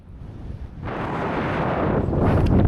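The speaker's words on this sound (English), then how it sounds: "Well, this wind is brutal. Probably at least 40, maybe upwards of 50 km/h gusts." Strong, gusty wind buffets the microphone during a solo bike ride in Saskatchewan, with gusts near 40 to 50 km/h. A steady low roar swells sharply after the first second and stays loud and close, with no voices.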